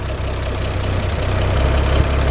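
A 1942 Chevy G-7107 cargo truck with a rebuilt engine boosted from 99 to 225 horsepower idles, a loud, steady low rumble with a fast even pulse, heard close and alone with no talk.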